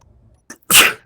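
A single loud sneeze, preceded by a short sharp inhale, up close in an otherwise quiet room.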